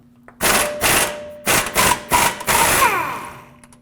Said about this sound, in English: a 24mm wrench will be needed to hold the bolt and a 24 socket to loosen the nut